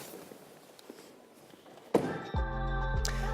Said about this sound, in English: the little door protectors that pop out when